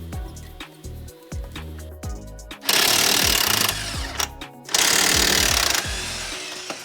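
Hammer blows tapping out wheel hub studs on a 2006 Chevrolet HHR during a steering and suspension job, loud metallic strikes in an irregular rhythm, with two longer stretches of harsher, noisier impact sound in between.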